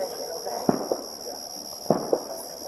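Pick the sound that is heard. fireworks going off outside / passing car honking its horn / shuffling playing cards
fireworks going off outside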